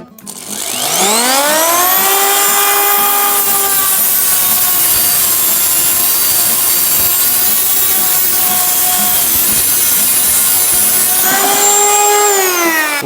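A handheld rotary cutting tool spins up with a rising whine, grinds steadily through a metal protrusion inside a bucket for about ten seconds, then winds down and briefly revs again, loud and close.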